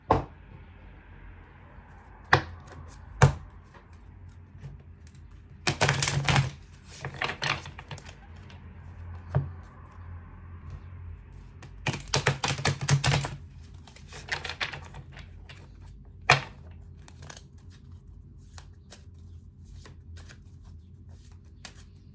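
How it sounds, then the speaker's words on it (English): Oracle cards shuffled and pulled from a deck during a tarot-style reading, bursts of riffling and snapping cards with quiet gaps between, close and clear with no talking. "Let's pull one last card of advice from the Sacred Geometry Oracle."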